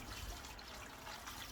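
Water is poured from a bucket over a compressed worm bedding block, a soft, steady trickling splash that stays faint and continuous with no talking.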